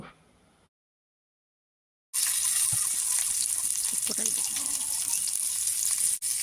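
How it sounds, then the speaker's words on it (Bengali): Prawn paturi wrapped in pumpkin leaves frying in hot oil over a low flame, a steady loud hiss and sizzle that starts abruptly after a short silence and runs on continuously. "এবারে তেল গরম করে নিয়েছি, নিয়ে একে একে পাতুড়িগুলো ভেজে নেব।"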